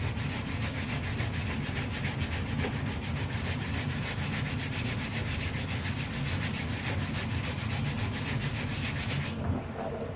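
A fiberglass truck canopy is hand-sanded in steady, rapid back-and-forth strokes, a close, continuous rasping scrub lasting about nine seconds before it stops.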